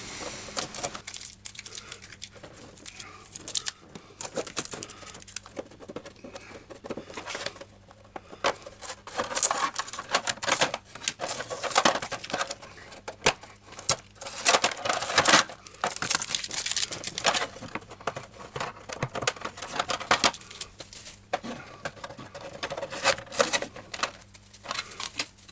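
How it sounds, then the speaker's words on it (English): Masking tape peeled off the hull section of a Tamiya 1/350 King George V battleship model, with photo-etch degaussing cable pieces; close, irregular crackling and sticky ripping bursts, no talk. "So I'm just removing the tape holding them in position."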